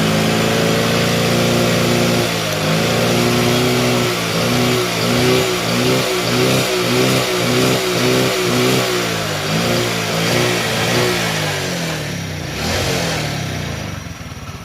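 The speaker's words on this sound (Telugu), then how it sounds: "బండి అయితే స్టార్ట్ అయిపోయింది చూడొచ్చు ఇంజన్ సౌండ్" A Hero Honda Passion Plus motorcycle engine, rebuilt from scrap, runs steadily and loudly, its throbbing rhythm pulsing and surging slightly before easing off near the end.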